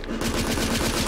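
Machine gun in The Order: 1886 video game firing a fast, unbroken burst of shots, loud and close, with no talking over it.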